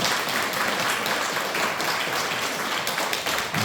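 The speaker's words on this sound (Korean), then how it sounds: "우리 다시 한번 오늘 임직 받으신 우리 권사님들께 축하의 박수 드리겠습니다" A church congregation gives congratulatory applause for newly ordained deaconesses at an ordination service, thick, continuous clapping at steady loudness throughout.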